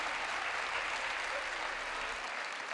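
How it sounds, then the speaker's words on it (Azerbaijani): Audience applauding steadily at a children's winter music festival, a dense even wash of many hands clapping throughout with no pauses. "Bayaqdan tamaşaçılarımız bizə əl çalır."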